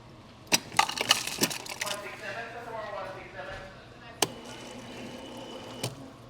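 Ice clatters and cracks into a cup with sharp knocks, then liquid pours and fills, with a couple more clinks near the end.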